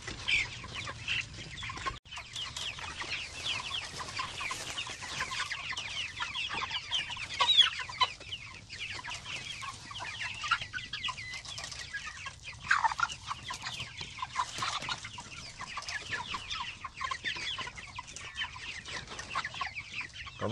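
Farm chickens cluck steadily in a low, busy chorus, with overlapping calls from several birds throughout and no talking.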